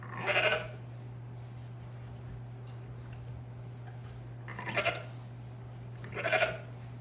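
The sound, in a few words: ewe bleating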